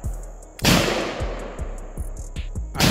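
A CZ EVO firearm fires during a two-shots-per-target drill: one loud, sharp report rings out with a long echoing tail, and another shot cracks at the very end.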